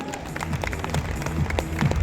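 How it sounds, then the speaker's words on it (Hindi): Audience applause in a stadium for a young fan, a dense wash of clapping from a crowd heard at moderate level, steady throughout the short stretch. "एवरीवन जोरदार तालियां माहिरा के लिए।"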